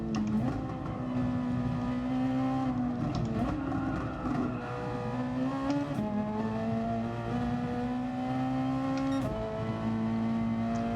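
A race car engine in the GT Sport video game drones steadily and loudly, its pitch dipping and climbing slightly as the car slows, with no gaps.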